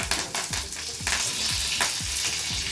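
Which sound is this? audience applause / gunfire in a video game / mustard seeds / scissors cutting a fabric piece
mustard seeds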